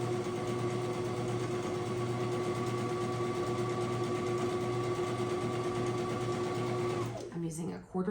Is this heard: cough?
no